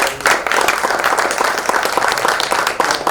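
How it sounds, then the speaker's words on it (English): Audience applause at a community advisory committee meeting, a dense, steady wash of many hands clapping at close range, loud and sustained throughout with no talk over it. "could we please have a round of applause for Mr. Harrison"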